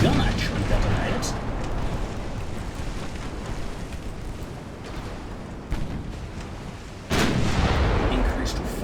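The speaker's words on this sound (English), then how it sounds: ".3-inch gun just detonated, and no, your main gun actually detonated." Naval guns fire and detonate in a game of Ultimate Admiral Dreadnoughts in a dense, continuous rumble of booms. Sharper blasts come near the middle and end, under occasional talk.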